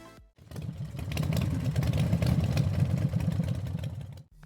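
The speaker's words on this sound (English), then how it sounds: "776 cubic centimeters parallel twin engine" A 2026 Suzuki Titan 700 motorcycle's 776cc parallel-twin engine runs at a steady, throbbing idle, close and fairly loud, holding an even, pulsing rumble for about four seconds after a brief quiet start, with no talking over it.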